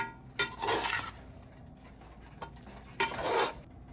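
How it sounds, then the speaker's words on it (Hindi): Keema and potato curry with spices stirred in a pot: two bursts of scraping, stirring strokes with a metal clink between them, close and moderately loud over a faint background, no one talking. "बस इसे मिक्स करके फिर ढक देंगे।"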